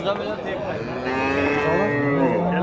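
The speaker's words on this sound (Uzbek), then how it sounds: "Mana shoxsiz sigir so'raganlarga mana shoxsizdan ham ko'rsatamiz" A hornless cow at a cattle market gives one long, loud, close moo that swells slightly and holds for a couple of seconds, with no talk over it.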